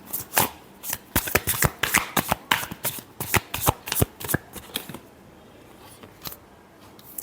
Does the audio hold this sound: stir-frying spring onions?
no